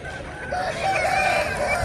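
A single rooster crow rises briefly at the Nallapadu chicken market, set against the steady murmur of the crowded sale.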